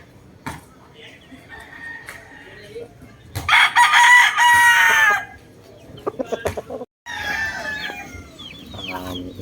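A chicken squawks and clucks loudly in bursts, with a crow-like call in the middle and other fowl noises around it.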